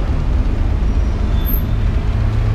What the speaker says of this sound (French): Il y a pas mal de bruit quand même, il y a des voitures partout.